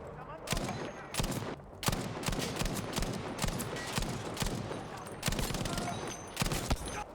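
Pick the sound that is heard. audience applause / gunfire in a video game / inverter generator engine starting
gunfire in a video game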